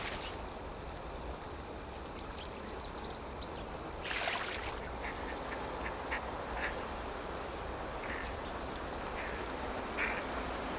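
Chinese merganser ducklings quack in scattered, fairly faint calls outdoors near a river, with a steady background wash of flowing water and a brief louder burst partway through; no voices.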